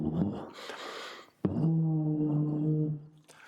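A didgeridoo is played with weak energy flow: a breathy, noisy burst, then a low droning tone with buzzing overtones that holds for about a second and a half at moderate volume before fading.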